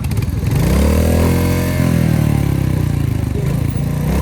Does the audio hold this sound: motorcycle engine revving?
yes